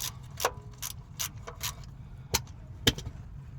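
Ratchet wrench loosening the oil drain plug on a 2004 GMC Yukon, several sharp separate clicks at an irregular pace, close and fairly quiet.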